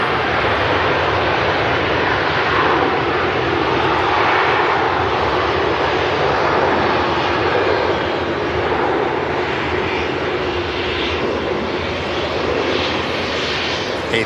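Airbus A380 taxiing to gate 12 at Manchester Airport, a loud continuous engine roar and broadband rush holding steady throughout with no pauses or voices.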